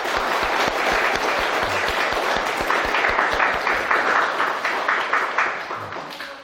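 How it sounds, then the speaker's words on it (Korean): Congregation applauding together in a Catholic church during a Sunday Mass homily, steady dense clapping filling the hall for several seconds without a break. "우리 서로를 위해서 한 박수 한번 쳤습니다"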